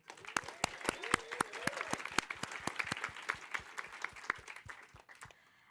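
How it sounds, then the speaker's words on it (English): A small audience at a skateboarding community summit talk applauds a departing speaker, scattered sharp claps from a modest crowd in a room, steady for several seconds before thinning out at the end. "a round of applause for Daryl"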